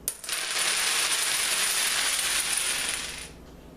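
A small pyramid of many dominoes topples all at once into a dense, bright clattering cascade lasting about three seconds before tapering off, close and loud with no talking.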